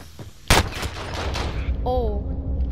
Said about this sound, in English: I'm getting my sniper up.